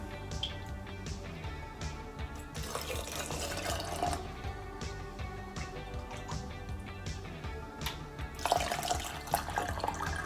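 Hot water pouring steadily into a glass canning jar, rising in pitch as it fills, with light clinks and kitchen background noise.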